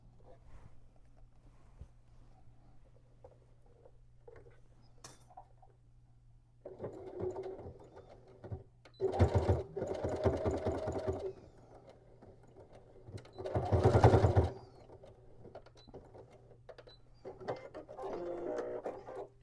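A sewing machine finishes a stitch on a tote bag in several short running bursts, separated by quiet handling sounds over a steady low hum.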